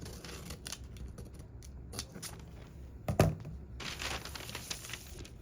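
Scissors snip through fabric in short, soft, crisp cuts, some quick bursts and one louder snip, close by in a quiet room.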